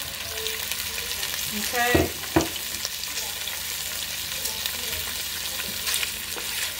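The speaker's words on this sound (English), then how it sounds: "I'm just going to saute this. Kielbasa in here with the bacon." Kielbasa sausage sautés with bacon in a pot for cowboy stew, giving a steady close sizzle with a couple of louder stirring scrapes, and one brief spoken word in the middle.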